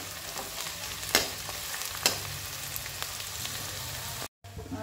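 Garlic frying in a pan while being stirred for ghugni, a dense, steady sizzle with two sharp spoon knocks against the pan and a brief dropout near the end, nearby and with no voices.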